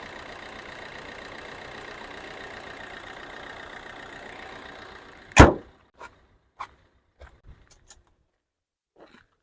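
A 2013/14 Maruti Ertiga VDI diesel engine idles quietly and evenly for several seconds. A sharp loud click then follows, and a few faint scattered knocks and ticks trail off into near silence.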